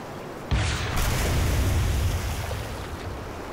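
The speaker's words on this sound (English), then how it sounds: "On the multiplayer map Highground, if you shoot a rocket or toss a grenade into the water," Rocket or grenade explosion hitting water on the Highground multiplayer map in Halo 3: a sudden splashy boom at the start, then a long loud wash of churning water that slowly fades, with no voices.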